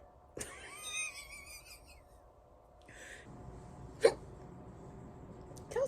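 A person hiccupping in a quiet room, a sharp hiccup near the start and another louder one around the four-second mark, with faint vocal sounds in between and low background hum.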